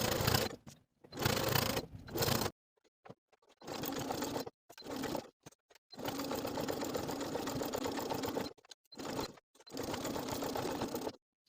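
A sewing machine edge stitches a pocket onto a fleece sweater in stop-start runs, several buzzing bursts of fast needle chatter broken by short silent pauses, close and alone.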